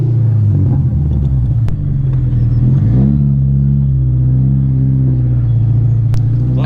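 An abandoned car that is nearly out of gas idles with a loud, steady low rumble close by. The engine lifts briefly around the middle, then settles back into a continuous drone.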